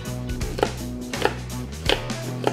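A knife scores raw Berkshire pork ribs on a board, a few close, crisp cuts landing in an irregular rhythm with no one speaking.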